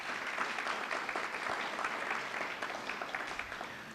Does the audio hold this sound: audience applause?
yes